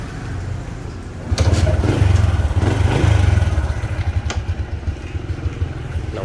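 A Honda RS 100 motorcycle, parked a long time with a dead battery, catches and settles into a low, steady close idle with a brief crank before it fires.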